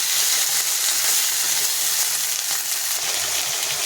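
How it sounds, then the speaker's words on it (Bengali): Snake gourd strips frying in a pan over a gas flame, a steady close hiss and sizzle throughout with faint low bubbling underneath. "চিচিঙ্গাটা ভাজা হচ্ছে।"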